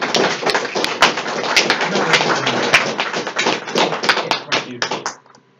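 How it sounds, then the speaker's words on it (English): Audience applause welcoming Raytheon guest speakers at a university ACM tech talk, a dense patter of claps from a room of listeners lasting about five seconds, then cutting off sharply into quiet. "Please, round of applause to welcome Raytheon"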